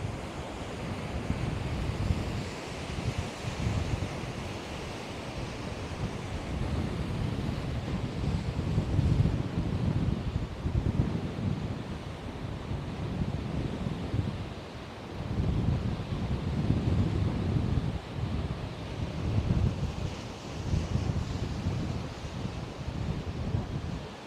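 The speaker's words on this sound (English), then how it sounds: "Look at it blasting those waves." Sea waves surge against the Blackpool seafront in strong wind, a loud continuous roar with rhythmic swells and heavy wind buffeting the microphone, no voices.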